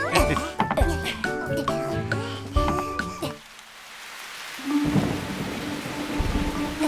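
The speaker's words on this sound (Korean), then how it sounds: "여기라면 비가 아무리 많이 와도 끄떡 없겠어요" Cartoon rain and thunder: rumbling thunder crashes and steady rainfall over background music, with a brief lull before the rain resumes.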